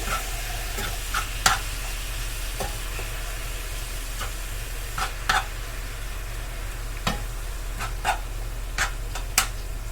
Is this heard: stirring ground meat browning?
yes